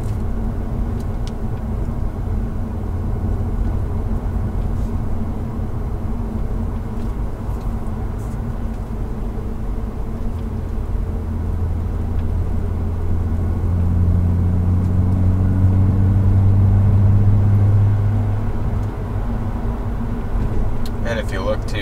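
A BMW E39 530i with its muffler deleted cruises on the road, giving a steady, loud low exhaust drone and rumble heard from inside the car. The drone deepens and swells partway through.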